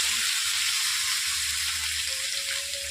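Onion, dry chilli, capsicum and tomato fry in hot oil in a pan, giving a steady, close, loud sizzle that holds evenly throughout with no talking.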